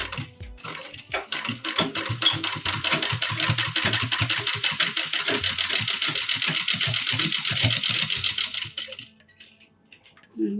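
A sewing machine stitches lace onto a Laddu Gopal outfit, running in a steady fast rattling chatter for about nine seconds before stopping, close and loud with no talking.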